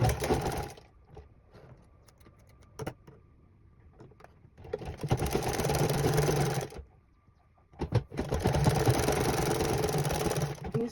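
A sewing machine runs a straight seam along a chalked line on fabric for a two-piece shorts set, its motor whirring in two long, loud bursts separated by quiet pauses and a few short clicks.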